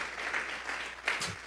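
Church congregation clapping in a brief burst of applause, faint and somewhat distant, with steady hand claps.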